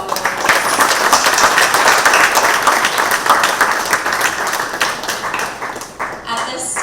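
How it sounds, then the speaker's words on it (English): A crowd at a San Fernando Carnival event applauds warmly, dense clapping sustained for several seconds before thinning out toward the end. "I feel we have to give Lady Adana another round of applause."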